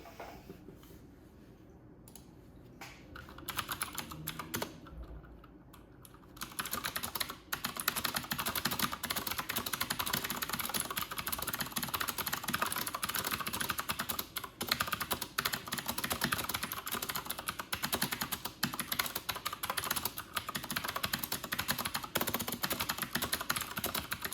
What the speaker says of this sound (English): May not be my fastest typing speed because the camera is in front of the keyboard and I'm off to the side.